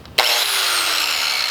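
A 4.5-inch angle grinder with a flap disc spins up abruptly and then runs loud and steady with a harsh, high whine as the disc sands a bumper surface.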